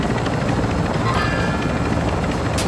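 A helicopter in a combat video game thrums loud and close, its rotor chop a steady dense pulsing that holds throughout, with a brief sharp high-pitched burst near the end.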